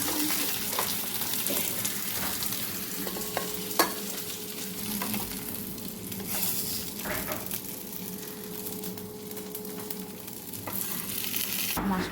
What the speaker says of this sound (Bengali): মাছ ভাজাটা একটু তুলে নিই আস্তে আস্তে করে